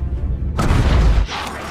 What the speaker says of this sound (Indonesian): Namun tiba-tiba terjadi ledakan di kapal Rusia.